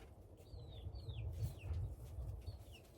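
Backyard chickens cluck faintly at a distance beside a sweet potato harvest in a suburban garden, with a few high chirping bird calls over a low steady rumble of outdoor background noise.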